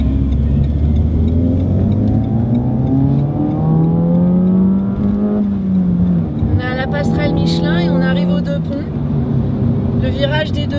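A car driving on the Linas-Montlhéry racing circuit, its engine droning steadily and rising in pitch as it accelerates, heard from inside the car with someone talking over it throughout.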